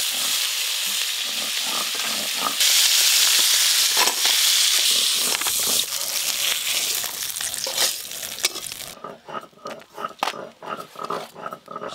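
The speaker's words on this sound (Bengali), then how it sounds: "গাড়াগুলো সব লাল লাল করে ভাজা হয়ে গেছে" Sundarbans crab pieces fry in oil with a strong, dense sizzle that later thins into choppier bursts as the pieces are stirred and turned.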